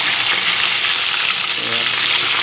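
Tilapia frying in hot oil in a pan, a loud, dense, continuous sizzle and crackle heard up close, with no talking.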